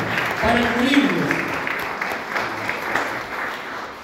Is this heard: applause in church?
yes